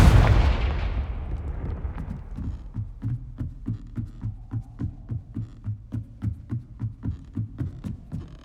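A Confringo fire spell cast in Hogwarts Legacy lands as one loud, booming blast that rolls away, followed by a steady run of soft rhythmic thumps under a low hum.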